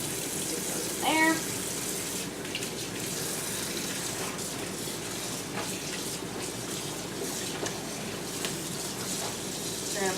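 Tap water gushes steadily into a sink being filled for hand washing a dress, a continuous close rushing flow with a brief louder splash near the start.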